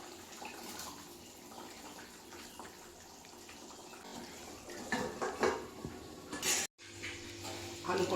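Pointed gourd pieces dropping into a pan of half-boiled potatoes for a vegetarian curry, with a clatter of pan and utensil and a brief wet splash, moderately loud and up close.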